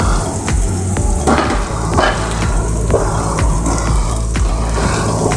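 Onions, taro and green chillies fry together in a pan with a loud, dense, continuous sizzle, broken by repeated scraping and stirring knocks close by.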